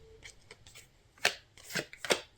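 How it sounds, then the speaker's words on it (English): Tarot cards being shuffled by hand, a few soft riffling bursts and light taps at close range, with quiet pauses between them and no talking. "So, as I'm shuffling out your cards"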